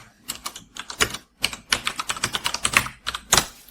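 Fast typing on a computer keyboard, close and crisp, with rapid clustered keystrokes broken by a brief pause before resuming.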